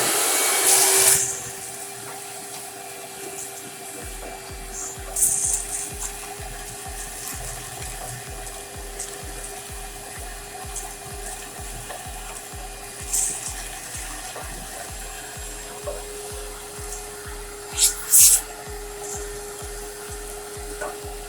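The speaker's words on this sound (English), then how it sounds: "So let me get the vacuum cleaner out." A vacuum cleaner cleans out the fire box of a pellet stove, a steady, fairly loud drone running the full length with a low pulsing beneath and a few brief clatters of debris being sucked up.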